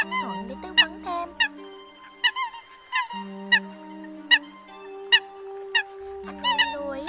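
Recorded coot (sâm cầm) calls sound as clear, nasal honks repeated every second or so, with sustained tonal lines and a low drone underneath.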